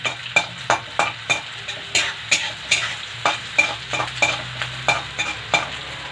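Onions frying in a pan for a home-cooked dish, with a steady sizzle under rhythmic scraping strokes of a spoon stirring them, about a dozen close, regular scrapes.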